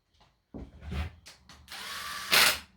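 A power tool or ratchet runs bolts down on ported heads of a supercharged 392 Hemi engine, in a few short bursts of whirring and clicking, close and fairly loud, with a longer louder run at the end.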